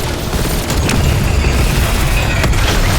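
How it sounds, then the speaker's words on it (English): Crystals blowing apart in Cold War Zombies, a loud, sustained rumbling explosion with continuous dense booming and crackling debris throughout, no voices. "The crystals are destroyed."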